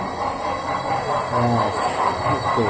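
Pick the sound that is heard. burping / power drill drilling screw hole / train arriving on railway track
train arriving on railway track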